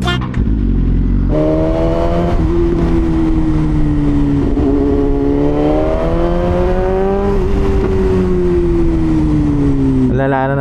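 A BMW S1000RR sport bike fitted with an SC Project exhaust revs loud and close, its engine note climbing and easing in long sustained sweeps amid traffic in Cavite.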